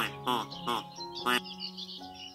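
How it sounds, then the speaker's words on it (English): A duck gives several short, bright quacks in quick succession, close and clear, with quieter trailing calls between them. "D for duck."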